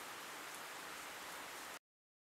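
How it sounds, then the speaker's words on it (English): Steady hiss of rain falls over an A-10C cockpit in the DCS flight simulator, constant and fairly loud before cutting off abruptly. "Ooh, it's raining."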